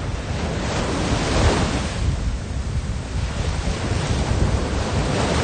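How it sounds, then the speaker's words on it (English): Ocean waves at Scarborough beach on the Indian Ocean, a steady broad wash of surf with strong wind buffeting the microphone, loud and unbroken throughout. "So the beautiful Indian Ocean, folks."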